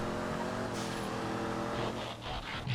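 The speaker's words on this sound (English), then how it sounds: "Right, trophy truck for the off-road class." A trophy truck engine in a GTA off-road race drones steadily, then passes with a rising and falling pitch, followed by a brief revving burst near the end. Moderately loud, with no talk.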